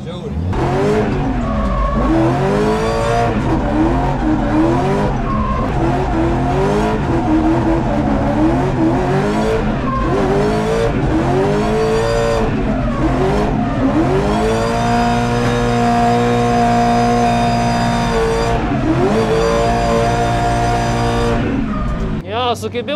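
A drifting car revs hard while its tires squeal, in repeated rising and falling engine sweeps with sustained screeching over about twenty seconds. Voices can be heard alongside.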